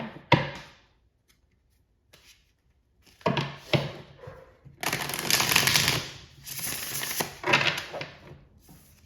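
Tarot cards riffle and slap together in bursts, with scattered taps and clatter between shuffles; close and fairly quiet, no talking.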